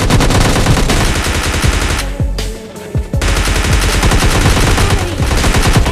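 Loud, rapid volleys of gunfire from PUBG Mobile Lite, likely including AWM sniper shots, filling the whole clip with dense repeated bursts and a brief lull near the middle.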